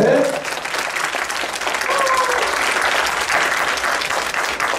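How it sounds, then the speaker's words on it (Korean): Steady applause from a crowd, dense clapping filling the whole stretch at an even level, with some voices cheering briefly at the start. "박수 좀 부탁드리겠습니다"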